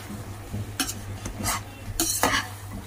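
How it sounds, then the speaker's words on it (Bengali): Koftas being stirred into masala in a pan, with a few spoon scrapes and clinks against the metal over a low background hum, no talking. "এবার মশলার সাথে কোফতাগুলোকে ভালো করে মিশিয়ে নেব।"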